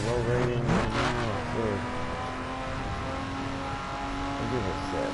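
A 2011 BMW Z4 Street Edition rated at 412 hp runs its engine with a steady, harmonic drone that swells briefly at the start before settling into a continuous, fairly loud hum, while a voice talks over it.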